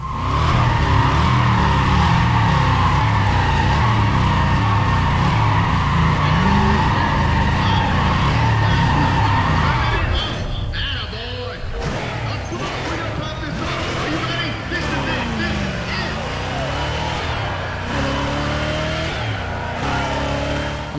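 Racing game engines roar and rev steadily through a grip race against a VW Golf in Need for Speed: ProStreet, loud and continuous, dipping briefly midway before climbing again, with a voice talking over the action.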